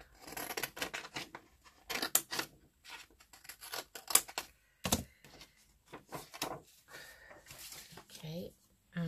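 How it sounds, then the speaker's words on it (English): Scissors snip through paper while a card piece is cut out, giving a run of quick, close, crisp cuts in uneven bursts, with a voice talking in between. "No, I have to cut that out."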